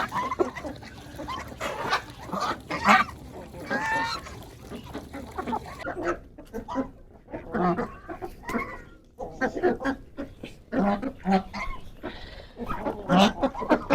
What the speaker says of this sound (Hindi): पता नहीं बतखी इतनी लड़ती क्यों है।